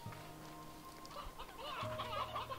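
A chicken in the Slime Rancher 2 video game clucks in short, soft bursts against a low hum of game ambience, with no voices over it.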